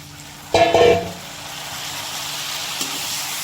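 Pork fries with elephant apple, onion, chilli, ginger and garlic in a pan, a close, even sizzle that surges loudly for a moment as ingredients go in, then settles back to a steady hiss.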